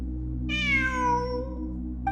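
A cat gives one clear, drawn-out meow that slides downward in pitch, heard alone and fairly close over a low steady hum.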